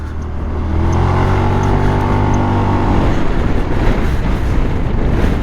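A Zontes 350E scooter engine revs up loudly and steadily as it accelerates on a commute road, with a rising tone that smooths into a continuous drone.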